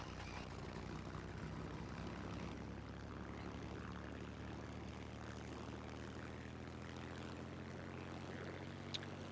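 Ju-87 C1 dive bomber's piston propeller engine in Garry's Mod, a steady continuous drone running alone for the whole stretch at a moderate, even level.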